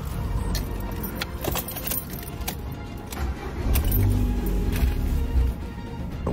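Car keys for a 2008-2017 Ford Fiesta jangle and clink in quick, irregular bursts close by, over a low background hum.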